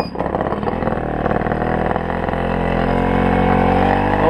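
A Tomos 50 moped engine running close by with a steady, buzzy two-stroke drone, its carburettor needing adjustment, holding a fairly even pitch that rises slightly toward the end.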